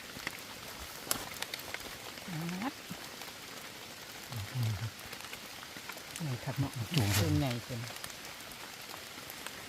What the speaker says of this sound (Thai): ฝนมาอีกละ